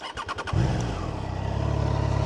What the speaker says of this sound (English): Also, the starter motor sounds like it means business.